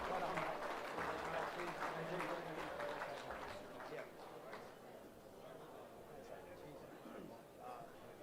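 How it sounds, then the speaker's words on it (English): Crowd applause fills a football league awards night, honouring a 300-game life member; dense steady clapping from a large room, loud at first and easing slightly toward the end. "Big round of applause to Chris Cox of Ferntree Gully"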